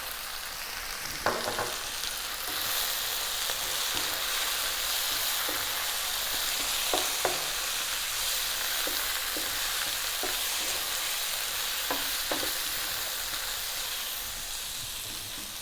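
Turmeric, coriander, chili, garam masala and cumin frying with tofu and mushrooms in a curry pan, a steady bright hiss of sizzling oil with occasional light stirring taps, close and even.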